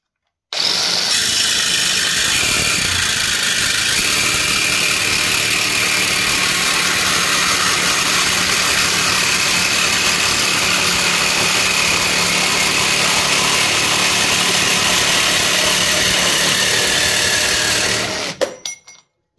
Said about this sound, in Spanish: El acero inoxidable es bastante duro a la hora de cortar.